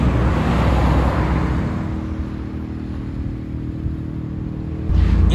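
A Renault Sandero rally car idles and rumbles while being reversed onto a car carrier, a steady engine drone with traffic noise around it and a louder low-end surge near the end, with no talking.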